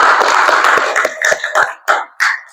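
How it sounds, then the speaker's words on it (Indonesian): A few pairs of hands clap in a classroom, a brief, close round of scattered claps that thins into isolated claps and dies out. "tepuk tangan dulu untuk Tabita."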